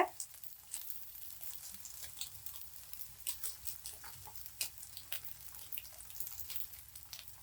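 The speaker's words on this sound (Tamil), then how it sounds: "பேன் வச்சு நம்ம ரெடி பண்ண சேமியா அதில் வந்து ஊற்றிடலாம்" Semiya omelette batter of vermicelli and egg sizzling in a hot frying pan, a soft steady crackle with scattered small pops, fairly quiet and close.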